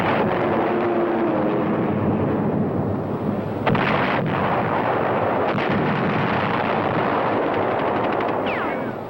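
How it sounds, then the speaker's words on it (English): Heavy air and naval barrage on Iwo Jima in WWII war footage: a dense, continuous roar of artillery and gunfire with scattered sharp blasts, loud and unbroken throughout. "Only a continued air and naval barrage saved them."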